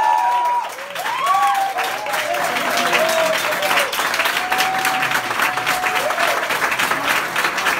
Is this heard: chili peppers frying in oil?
no